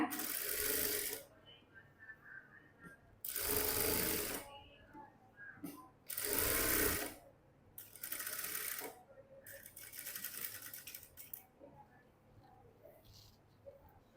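Sewing machine stitching a pair of pants with blue thread, running in several bursts of a few seconds each separated by pauses, with soft mechanical whirring and background noise between runs.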